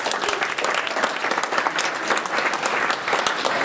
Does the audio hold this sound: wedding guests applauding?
yes